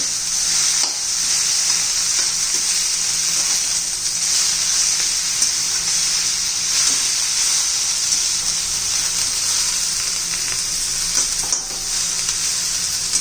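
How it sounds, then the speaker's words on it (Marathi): Fenugreek leaves (methi) sauté in hot oil for a home-style methi bhaji, giving a loud, continuous sizzle and hiss with faint stirring scrapes, close and with no talk over it. "व्यवस्थित तेलामध्ये परतून घेऊ"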